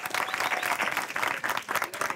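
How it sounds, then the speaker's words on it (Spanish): A studio audience on a live TV celebrity cooking competition applauds the contestants, with dense clapping and crowd noise that swells in uneven waves. "Fuerte aplauso para ellos, señores."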